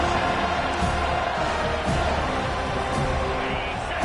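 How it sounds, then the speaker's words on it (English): A packed football stadium crowd keeps up a steady roar of noise against the offense, a dense, continuous wash of voices with a commentator talking over it. "This crowd trying to make life miserable for this offense."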